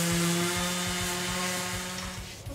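DeWalt 20V Max cordless brushless 5-inch orbit sander with 80 grit paper working over wood, a loud continuous whirring drone with a rhythmic pulsing rasp throughout, slightly easing at the end.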